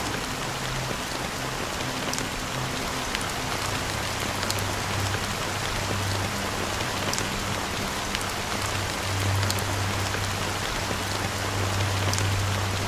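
Steady rain falls on surfaces in the video game Honkai Star Rail, a dense, even patter with scattered droplet hits, constant and close throughout.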